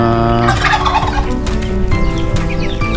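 Several turkeys gobble loudly and close by, their rapid warbling calls overlapping in a noisy flock chorus.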